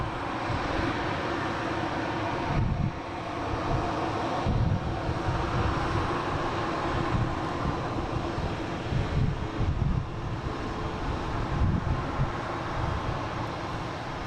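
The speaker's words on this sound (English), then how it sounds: "And we have a Delta coming in from Reagan." A Delta jet airliner, an E175 arriving from Reagan, on approach at Boston Logan airport gives a steady, loud engine roar with broadband rumble and some wind buffeting throughout.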